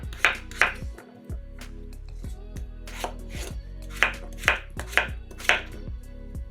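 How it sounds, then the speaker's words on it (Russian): Peeled potatoes chopped into chunks with a knife on a cutting board, a steady series of sharp close knocks in uneven clusters, with no talking. "2 очищенные картошки нарезаем кусками."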